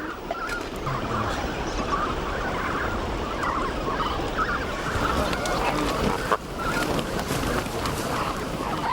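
A dense flock of flamingo chicks in the Ebro Delta honks and calls continuously as people herd them into a pen with a wire fence, a loud unbroken chorus of overlapping cries throughout.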